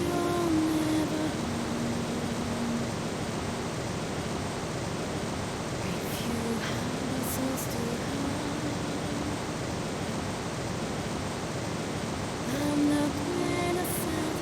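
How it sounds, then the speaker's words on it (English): A waterfall in Wizardry: Tale of the Forsaken Land on PS2 gives a steady, broad rushing roar that never lets up, with faint tonal music threading softly beneath it. "They, they could have muted the waterfall for this."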